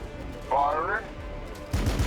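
Weapons fire in the Warhammer 40,000 strategy game Battlesector, a rapid burst of gunfire around a voiced in-game line, with another short volley toward the end.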